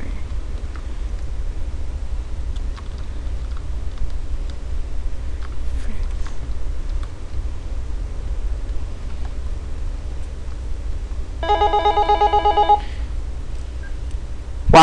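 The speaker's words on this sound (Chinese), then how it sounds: "头先我啲声系我个电话" A mobile phone ringtone cuts in near the end, a short bright melodic burst lasting about a second over steady low background hum, fairly loud and alone.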